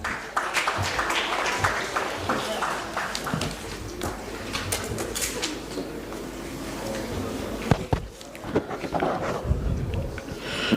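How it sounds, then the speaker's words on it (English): Audience applause at an investiture ceremony, broad and steady for about ten seconds, with scattered sharper claps and a brief dip in the middle. "Welcome him with your big applause."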